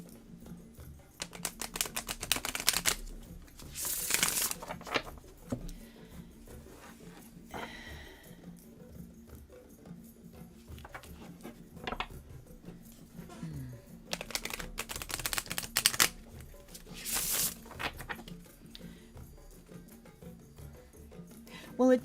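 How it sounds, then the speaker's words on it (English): A Star Tarot card deck is shuffled by hand, giving repeated bursts of crisp riffling and card slaps that come and go in clusters, with a person talking between them. "you will humor me as I go through the laborious shuffling of this"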